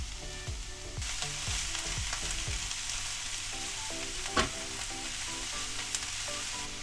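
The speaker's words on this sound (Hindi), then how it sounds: "बाकी की सब्जियां हल्की हल्की सी सौते हो गई है, बस यही टाइम पे मैं कैबेज भी ऐड कर देती हूँ" Vegetables and cabbage sautéing in a pan give a loud, continuous sizzle with several spoon scrapes and knocks early on and a sharp clank midway, with no voices.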